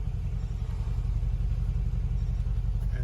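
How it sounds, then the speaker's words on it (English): A deep, steady exhaust rumble from a Mercedes G63 AMG twin-turbo idles close by, its low throb holding fairly even throughout. "You can hear the exhaust change as you flick between the different modes."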